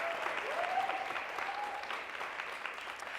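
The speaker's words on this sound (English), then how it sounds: "round of applause for our judges." An audience claps for the judges in a steady, moderately distant burst of applause that holds through the moment, with a faint voice or tone briefly over it.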